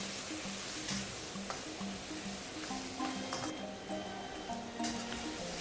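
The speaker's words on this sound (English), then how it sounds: "Now continue to saute until the prawns change color." Prawns sauté on high heat in a pan for black bean sauce, giving a steady, soft sizzle and frying hiss with faint stirring scrapes throughout.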